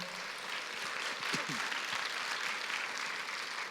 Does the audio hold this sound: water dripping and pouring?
no